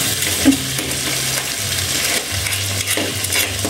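A spoon stirs buttered garlic mixed seafood in a hot pan, with close, steady sizzling and scraping strokes and no talking.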